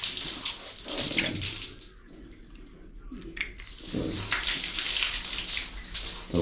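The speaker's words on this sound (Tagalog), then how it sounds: "So hugasan mo lang ng maigi mga kabinas yung reel line." Running tap water pours over a fishing reel as it is rinsed, a steady close splashing hiss that dips briefly in the middle, with faint voice-like sounds under it.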